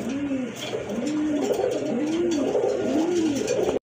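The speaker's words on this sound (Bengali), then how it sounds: "এখানে কিন্তু আরেক জোড়া কবুতর আছে" A pair of running pigeons coo in a steady rhythm, four soft rolling coos at close range over a quiet background hum.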